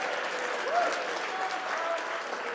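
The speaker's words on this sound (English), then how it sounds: "to the tune of some wonderful and much deserved and earned applause" Sustained applause from an indoor crowd at a Red Bull Faster finals event in Milton Keynes, a dense even patter of clapping with a faint voice or whistle briefly rising above it.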